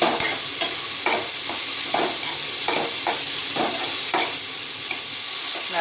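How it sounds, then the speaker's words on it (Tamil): A cup of chopped onions sizzles steadily in hot oil left from frying dry fish, while a utensil stirs and scrapes the pan in a regular rhythm about once a second. "1 கப் அதே எண்ணெயில் 1 கப் நறுக்கிய வெங்காயத்தை போட்டு நன்கு வதக்கவும்."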